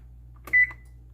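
A kitchen timer being set for 30 minutes while salted eggs cook gives a single short, clear electronic beep against quiet background hum.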